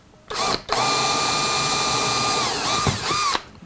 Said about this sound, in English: And we'll only drill this piece.